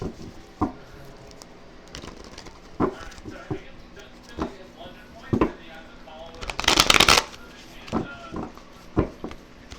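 Tarot deck being split and shuffled, with sparse card taps and flicks and a brief dense riffle burst in the middle, while a person talks throughout.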